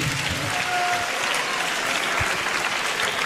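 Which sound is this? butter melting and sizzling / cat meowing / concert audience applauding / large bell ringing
concert audience applauding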